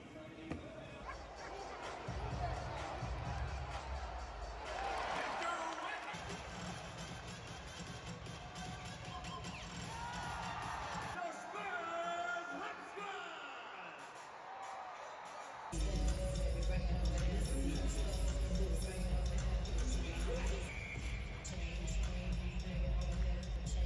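Crowd noise at a San Antonio NBA game, a steady roar of fans that swells louder near the end, with a basketball bouncing and voices talking through it.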